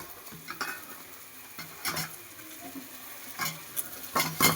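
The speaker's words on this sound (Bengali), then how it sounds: "বেগুনটাকে একটু ভাজা ভাজা করে নিই" Eggplant cubes fry in a wok under a soft constant sizzle, broken by repeated sharp scrapes and clatters of a spatula stirring against the metal.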